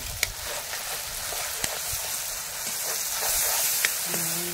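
Masala powder paste fries in a pan for a curry, giving a steady, moderate sizzle and hiss with a few small pops, close by and alone with no voices.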